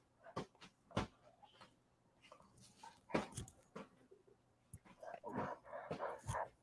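A dog whimpers and gives short sharp barks and yips in scattered bursts, near and moderately quiet, with a few clunks between them.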